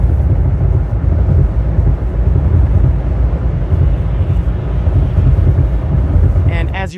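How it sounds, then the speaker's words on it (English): Steady low rumble of road and wind noise inside a 2025 Subaru Outback cruising at highway speed, continuous and fairly loud throughout, with a brief higher-pitched whine near the end. "I did test on the highway to see how things would sound"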